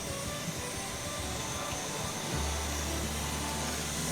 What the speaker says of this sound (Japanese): まずは部屋全体に軽くほこり払いのモップをかけてから掃除機で掃除をしていきます。